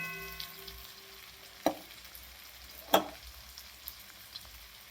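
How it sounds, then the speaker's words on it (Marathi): Pistachios frying in a pan give off a faint, quiet sizzle, with two distinct sharp clinks of a utensil and a few lighter taps. "पिस्ते पण अशा पद्धतीने आपल्याला ब्राऊन असे सोनेरी कलरवरती फ्राय करून घ्यायचे."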